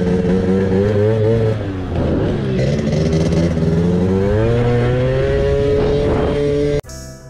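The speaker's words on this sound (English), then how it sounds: "let's get this bike started up and let's get moving" A Piaggio Zip 70cc scooter revs loudly up close, its engine pitch climbing, falling and rising again through several throttle blips before cutting off abruptly near the end.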